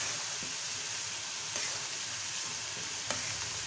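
Onions being stirred into chicken with bitter gourd in a pot for spicy karela gosht, a steady close sizzle and hiss of frying with a few faint scraping clicks from the stirring.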